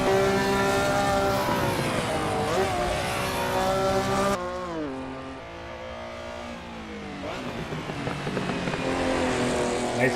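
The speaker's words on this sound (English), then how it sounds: "Nice little backfire." Porsche 911 Carrera RSR 3.0 in the Assetto Corsa racing game, a loud, continuous engine note rising and falling through gear changes, with a tone shift midway where a backfire may be buried in the engine roar.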